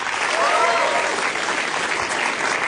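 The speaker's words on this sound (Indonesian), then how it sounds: "Tepuk tangan buat Bintang" An audience at a stand-up comedy show applauds a comedian in a dense, steady burst of clapping, loud and close, with faint crowd voices mixed in.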